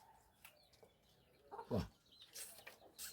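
A chicken clucks in short, scattered calls that rise to a louder squawk partway through, fairly faint against a quiet outdoor background, with no talk.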